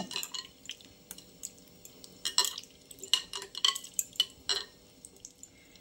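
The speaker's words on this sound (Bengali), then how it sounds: "এবারে এগুলো ভালো করে কলের তলায় নিয়ে ভালো করে ধুয়ে নেব।" Black grapes are rinsed under a running kitchen tap, giving soft splashing and dripping water with scattered small knocks of fruit and bowl, quiet and close.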